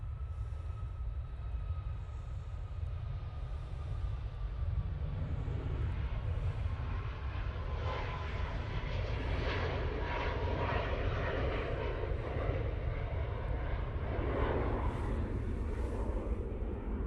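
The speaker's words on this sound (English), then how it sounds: "We go with this Ryanair 737 MAX 8." A Ryanair Boeing 737 MAX 8 jet rumbles and roars at Manchester Airport, a steady low engine drone heard from a distance with a faint whine that swells slightly midway, continuing throughout.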